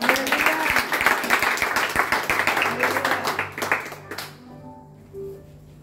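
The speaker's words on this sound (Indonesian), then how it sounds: "Ayo kita beri tepuk tangan bagi Tuhan." A church congregation claps in praise during a sermon, a dense burst of applause that fades out after about four seconds, leaving a quiet room with a faint voice.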